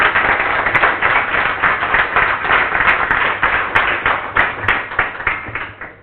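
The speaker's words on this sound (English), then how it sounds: "Please, let's give him a deserved applause." A small audience applauding after a PostgreSQL conference talk, steady clapping close by that tapers off toward the end.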